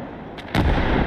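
Artillery in the WWII game Gates of Hell: Ostfront fires with a faint thump, then a heavy, close explosion erupts and rumbles on loudly to the end.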